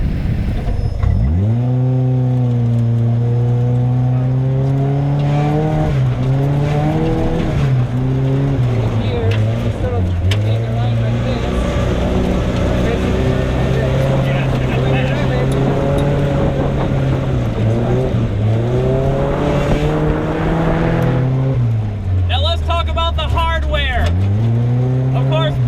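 Tomcar TX 4x4 UTV driving off-road in rural California, its engine droning loud and close and rising and falling with throttle changes and shifts, with talking partly over it.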